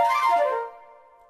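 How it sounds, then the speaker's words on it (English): Sampled flute trill fired from a single keyboard key, a short bright warbling burst that fades into a sustained ringing tail, heard alone. "there are two flute phrases"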